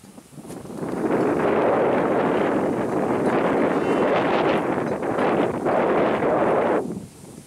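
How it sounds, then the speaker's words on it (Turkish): Strong wind buffets the microphone outdoors near a village sheep shelter, a loud roaring rumble that swells in after a second, holds with gusting surges, then drops away near the end. "Şimdi burada çok rüzgar var. Bu rüzgarda çok şey çıkarıyor bu gürültüyü."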